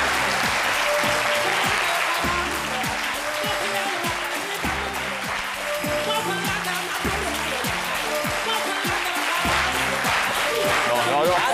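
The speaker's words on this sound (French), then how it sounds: "Déroulons un couloir d'applaudissements à Dr Philo." Loud, steady applause from a TV talk-show studio audience as a guest called Dr Philo is welcomed, with music and voices under the clapping throughout.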